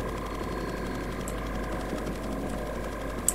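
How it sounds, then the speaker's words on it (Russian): A robot vacuum cleaner in the video game Atomic Heart gives off a faint, steady mechanical whirr and hum with small ticks, heard alone. "Робот-пылесос."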